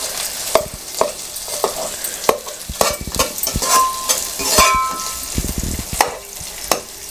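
Sliced onion frying in a pan with repeated sharp scrapes and taps as it is stirred, over a loud, steady close sizzle of oil, with no talking.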